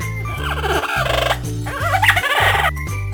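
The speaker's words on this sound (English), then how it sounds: "Parrot." Animated parrot call in a children's animal game, a run of squawking, gobbling bird cries in two bursts over a bouncy music loop, loud and close.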